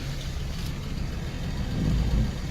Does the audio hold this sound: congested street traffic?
yes